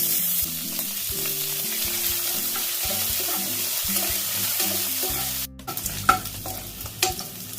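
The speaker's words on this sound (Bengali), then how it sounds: "কিশমিশ আর কাজু দেখো ভালো করে ভাজা হয়ে গেছে।" Whole garam masala, bay leaf, cashews and raisins fry steadily in ghee, giving a continuous close sizzle with stirring, and near the end the sizzle drops away into a few clinks and scrapes.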